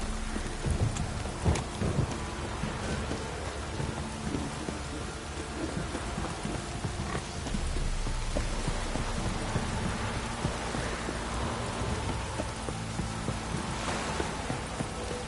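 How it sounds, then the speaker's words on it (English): Heavy rain pours steadily in The Witcher 3, a dense unbroken hiss of drops with low rumbling thunder underneath, constant and loud throughout. "This downpour's a bastard,"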